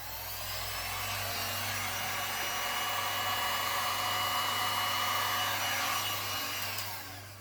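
A small heat gun blows over a resin painting on a fabric background, a steady airy roar with a motor hum underneath that rises, holds, then fades as it shuts off.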